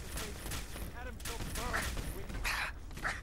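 A Gamma Gun in the game Fallout 4 fires in a series of buzzing, crackling bursts, several discharges following one another over a bed of game ambience.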